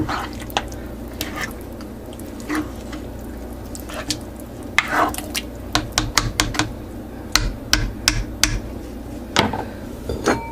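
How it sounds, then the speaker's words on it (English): Spaghetti sauce in a slow cooker is stirred, giving soft wet squishes with sharp clicks and taps of the utensil against the pot, scattered irregularly and growing busier toward the end. "Give it 1 last stir."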